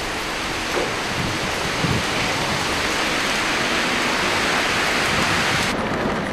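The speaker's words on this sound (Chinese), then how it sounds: "全市范围内出现狂风暴雨，多处路段水漫金山" Heavy rain from Typhoon Haikui lashing Shanghai forms a loud, dense, continuous roar with no voices.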